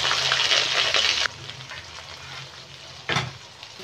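Whole spices fry in hot oil in a wok: dried red chilli, bay leaf, cloves, cardamom and cinnamon. A loud sizzle drops abruptly to a quieter crackle, then flares again briefly before settling.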